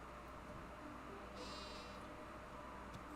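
Sheep bleating in the video game Harvest Moon: Animal Parade, a single short bleat over steady background game music and ambience, moderately clear and without talk.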